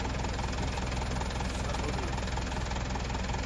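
A van engine hums and vibrates continuously at a steady low rumble while a learner drives, with an even, slightly knocking texture and no talking.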